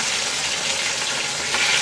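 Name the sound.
rohu fish frying in a pan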